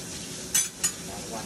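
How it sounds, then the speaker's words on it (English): A spoon is rinsed under a running kitchen tap. The water makes a steady close hiss, broken by two short metallic clinks. "Gotta wash my spoon off."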